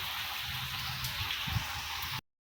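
Sudden rain pours down on a hot, sunny day, a steady, dense hiss of falling drops with low patter, continuous and fairly close, then cutting off abruptly near the end.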